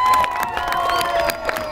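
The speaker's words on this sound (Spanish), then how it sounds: "Aplauso para la segunda pareja." Crowd at a children's day party cheers and claps for the second couple, a steady lively din of shouts and whistles with children's voices mixed in throughout.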